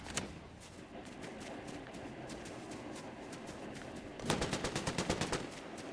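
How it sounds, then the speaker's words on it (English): Gunfire in the Fortnite battle royale video game: faint, distant single shots give way to a loud, rapid burst of automatic fire near the end, with no talking. "There's gunshots right down here."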